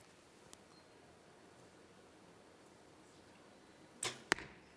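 A compound bow arrow is loosed during a women's team bronze-medal archery final in Ankara, giving two sharp, quick snaps close together near the end of an otherwise quiet, faintly hissing venue.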